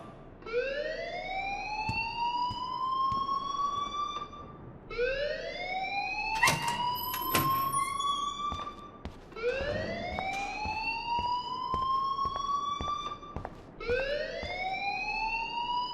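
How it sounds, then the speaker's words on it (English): A school alarm in the game Life is Strange wails in repeated rising siren sweeps, about four cycles, steady and moderately loud, with a few clanging hits mixed in. "please turn off that alarm since that's your job"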